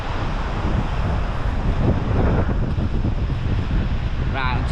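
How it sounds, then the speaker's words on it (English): Strong wind gusting at about 60 miles an hour buffets the microphone in a constant roar, with surging gusts and a brief tonal squeal near the end. "When the gusts come, they reckon it's about 60 miles an hour."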